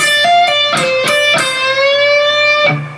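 Sustained electric guitar notes with a distinct string bend, the pitch sliding up smoothly and holding, after a few quick picked notes; clear and close, no talking.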